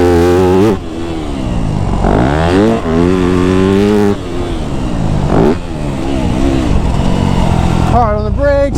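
A Yamaha YZ250F dirt bike ridden flat out on a dry track, its engine close and loud, revving hard in rising and falling sweeps through gear changes, with a rider's voice talking over it.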